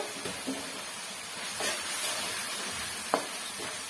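Tomatoes frying in a pan for avalakki upma, a steady sizzle with occasional scraping taps of a spoon stirring, close and fairly quiet.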